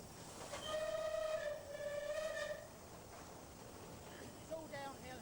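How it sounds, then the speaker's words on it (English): A steam locomotive whistle sounds in two drawn-out blasts with a slightly wavering pitch, over the rumble of the moving train as it enters a tunnel. "Blow the whistle as we're going into the tunnel."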